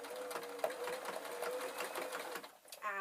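A sewing machine runs in quick, even stitching bursts while sewing a tweedle muffler, a fairly soft and close mechanical chatter that pauses briefly near the end.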